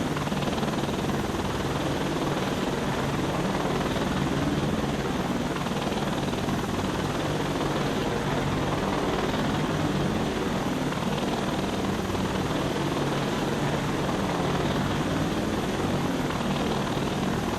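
Helicopter in the VR combat flight game Defender Patrol: a continuous, loud rotor and engine drone with steady thumping blade chop, unbroken and with no voices over it.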